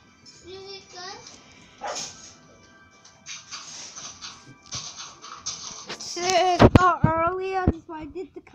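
A dog gives several loud, high barks and yips close by toward the end, after quieter shuffling and a voice earlier on.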